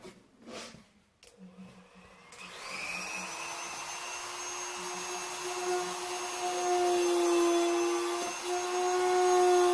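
A rotary power tool grinds out a mark on a Hoth Star Wars diorama piece, a steady high whine starting after a couple of seconds of light handling noise and holding loud and close, rising slightly in pitch and volume toward the end.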